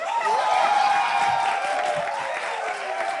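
A studio crowd at a French-language talk show cheers and applauds, with a continuous wash of clapping mixed with raised voices and whoops that stays fairly loud and even from start to end.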